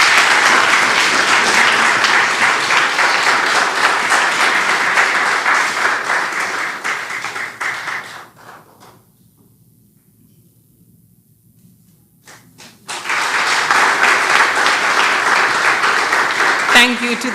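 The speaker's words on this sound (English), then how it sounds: "So let's give her another round of applause." An audience at an awards ceremony honoring remarkable teens, held in a special sitting of the National Assembly, claps loudly for several seconds, then falls nearly silent before a second burst of applause.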